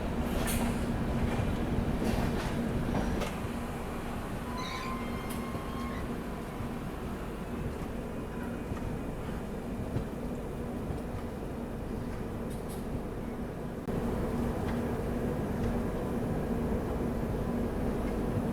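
Kanpur Shatabdi passenger train running from Kanpur toward New Delhi on a foggy morning, a steady rumbling roll of wheels on track heard from inside, continuous and fairly loud with faint higher squeals.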